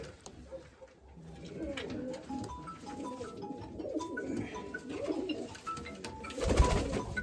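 Mykolaiv breed pigeons coo softly in a loft belonging to a keeper in Kamianske, low murmuring calls repeating over a busy background of rustling and faint chirps, with a sharper thump near the end.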